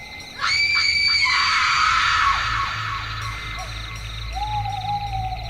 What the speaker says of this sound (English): That's when I heard this ear-piercing shriek.